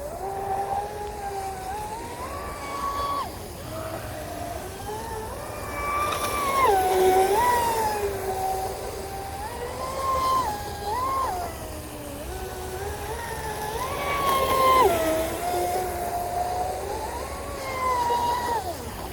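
Proboat Sonicwake V2 RC boat run at full throttle on a speed-run LiPo battery, a high electric whine rising and falling in pitch as it passes and turns, moderately distant over water.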